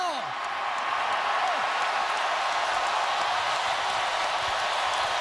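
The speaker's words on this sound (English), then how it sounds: "A very jubilant crowd cheering for their Auburn Tigers" A jubilant stadium crowd of Auburn Tigers fans cheers after the 2010 BCS national championship win over Oregon, a dense, steady roar of voices and whoops filling the whole stretch without a break.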